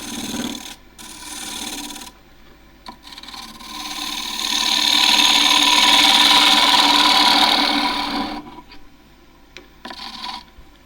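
A wood lathe spins a warped, rough-turned box elder plate at about 1500 rpm while a gouge shears the surface, a steady close rasping hiss that swells louder in the middle and fades, with brief pauses between cuts.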